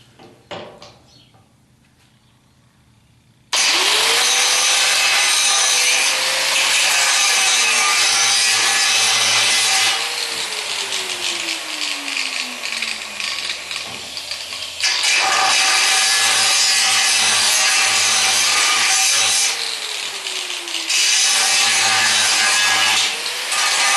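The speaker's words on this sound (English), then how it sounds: "I can get in there with the angle grinder, I think, and grind off a little bit of that weld" An angle grinder grinds off a weld on a 1976 Corvette restomod's rear suspension area, a loud sustained whine in long bursts, its pitch sliding as the disc bogs and recovers against the metal.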